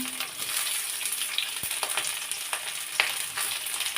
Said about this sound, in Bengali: দিয়ে দিলাম আলু আর কাঁচামরিচ দিয়ে প্রথমে আমি একটু আলুটা ভাজি করে নেব